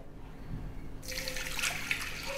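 Water splashes and swishes in a container after a quiet start, a soft sloshing as parboiled rice is rinsed by hand, fairly close.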